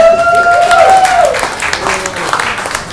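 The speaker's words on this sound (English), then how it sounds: "So one more round of applause for him." An audience at a Sleight Night roast show bursts into clapping after a brief gliding tone at the start, with voices mixed in over the short, lively applause.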